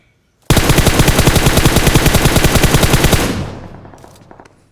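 In the mobile shooter BGMI, a loud, close automatic weapon fires one sustained rapid burst for about three seconds, each shot crisp and evenly spaced, before fading into a short echoing tail.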